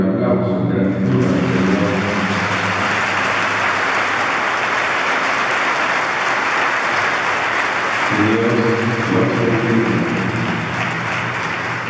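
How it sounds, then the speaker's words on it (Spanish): Sustained, loud applause from a church congregation fills the space nearly throughout, with a brief stretch of voice or music at the start and again near the end. "Un aplauso, gratitud."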